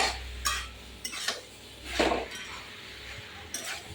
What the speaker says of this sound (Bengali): এবার নেড়ে চেড়ে